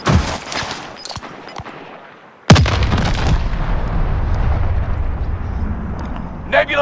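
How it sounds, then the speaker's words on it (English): A Nebula 5 bomb detonates in Call of Duty: Modern Warfare: scattered gunfire, then a sudden loud blast about halfway through that trails into a sustained rumbling roar, with more shots near the end. "Nebula 5 bomb has detonated in the area."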